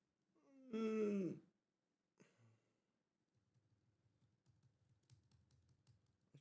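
Soft keyboard typing follows a groan and a brief sigh, with quiet irregular key clicks tapping near and faint through the last few seconds.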